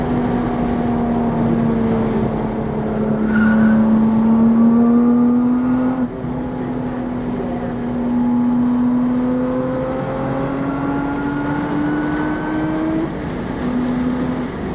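A Lotus Emira laps a race track on Cup 2 tyres, its engine droning steadily with rising and falling pitch through gear changes, loud and continuous from the cabin for the whole stretch, with a brief dip around the middle.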